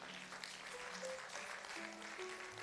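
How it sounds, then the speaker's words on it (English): Applause for a contest winner at a youth event, soft and fairly distant clapping that forms a low wash of sound with faint tonal hums beneath it. "Round of applause, everyone."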